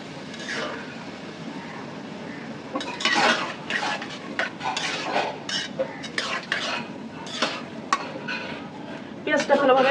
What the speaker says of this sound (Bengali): পেঁয়াজটা ভালোভাবে ভাজা ভাজা হবে